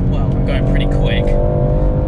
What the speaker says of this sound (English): Bit of understeer again, you can hear the tyres squealing.